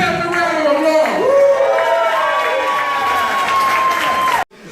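Loud, close crowd at a political march cheering with rising and falling whoops and shouts, sustained for several seconds before cutting off abruptly.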